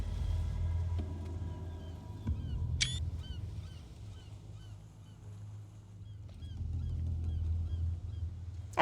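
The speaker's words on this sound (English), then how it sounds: "That's the sound of seagulls." Seagulls call in a couple of brief, sharp cries over a low, rumbling background, heard in an animated scene with no speech.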